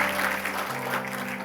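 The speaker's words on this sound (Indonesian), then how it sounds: "Yang setuju berikan tepuk tangan" A church congregation claps in response to a sermon, a short dense burst of applause filling the room, with a steady hum running underneath.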